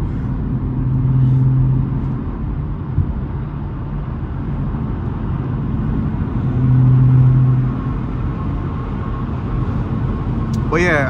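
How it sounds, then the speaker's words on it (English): An Audi A7 3.0 TFSI with a muffler delete, APR Stage 1 tune and cold air intake cruising on the highway, a steady low exhaust drone and road rumble that swells briefly twice, heard from inside the cabin. "I think a lot of people was wondering like what it sounds like on the highway with the muffler delete"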